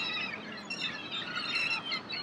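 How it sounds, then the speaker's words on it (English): Seagulls cry and squawk over a beach, a busy overlapping flock of shrill calls heard continuously at moderate distance with no talk. "Oh, the seagulls are liking this."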